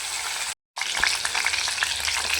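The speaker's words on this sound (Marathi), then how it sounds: "आणि बारीक गॅसवरती 5 ते 10 मिनिट आपण तेलामध्ये याला फ्राय करून घेणार आहोत." Drumstick (shevga) pieces frying in oil in a pan over a low flame, a steady close sizzle that runs continuously with a brief silent gap near the start and faint stirring clicks throughout.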